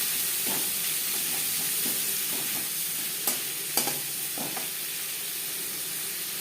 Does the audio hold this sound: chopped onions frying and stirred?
yes